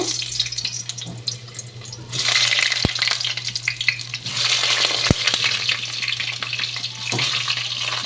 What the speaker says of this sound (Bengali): তেলটা গরমও হয়ে গেছে এবার আমি আলুগুলোকে ছেড়ে দেবো